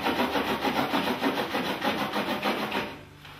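A knife cuts through a red bell pepper on a board, making a quick run of rhythmic crisp chopping strokes close up, about a dozen in a row before stopping.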